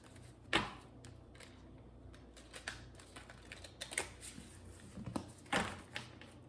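Quiet crisp riffling and tapping of tarot cards being shuffled, a series of irregular soft clicks and flicks close by.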